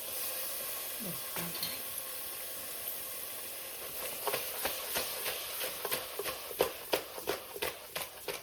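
Mutton frying in oil in a village-style kitchen, starting as a steady hiss and sizzle, then joined by a run of rhythmic scraping stirs that grow louder and close toward the end.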